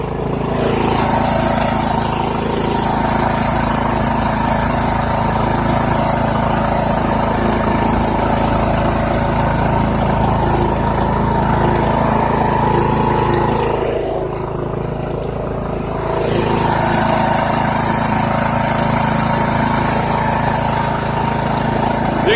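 Poulan Pro lawn tractor engine running steadily at high throttle while pulling Grilla carts, a loud continuous drone that dips briefly midway before returning to full power.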